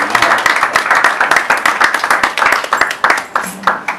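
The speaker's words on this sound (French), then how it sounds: "je vais laisser Monsieur Guimacha venir sur vos applaudissements" A seated audience at an agribusiness investment talk in Cameroon claps steadily for several seconds, a dense, close patter of many hands without a break.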